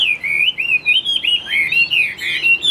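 A hwamei songbird with a fanned tail sings close and loud, a rapid run of clear, varied whistled phrases rising and falling without pause, alone with no voices.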